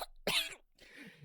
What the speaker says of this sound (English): A cough racked his body, a spray of blood spattering the metal table.